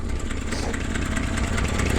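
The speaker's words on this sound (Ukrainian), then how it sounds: "Клапанці трошки шумлять" A car engine idles with slightly noisy valves, a close steady rumble with a fast even ticking running through it, alone without talk.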